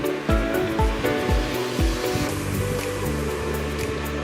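Dry red chillies and cumin roast in a pan, giving a steady close sizzle and rustle with faint scraping as the spices are stirred, and no voices.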